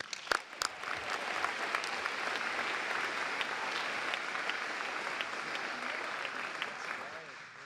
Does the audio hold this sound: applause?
yes